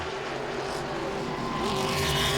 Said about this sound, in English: Now Wirtz once again trying to reel in Casey for that 4th position.